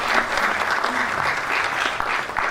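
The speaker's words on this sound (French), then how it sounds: "Oui, applaudissez quand même." A room full of people at a cinema club master class clapping steadily and warmly, sustained dense applause at a fairly close distance with no one speaking.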